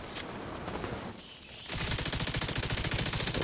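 Rapid automatic gunfire in The Division 2 on PS5, a dense sustained burst of evenly spaced shots that turns louder and closer partway through after a brief lull, with no talking.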